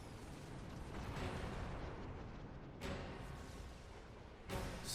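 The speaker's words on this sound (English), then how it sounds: "An explosion?" Explosions in Xenoblade Chronicles 2 as a battle rages, with continuous rumbling blasts and two sharp booming bursts standing out, no talk over them.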